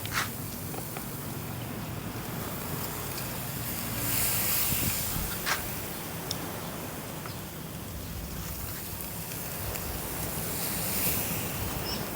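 Waves wash onto a shore in a continuous roar, with gusts of wind buffeting the microphone and occasional swells rising louder.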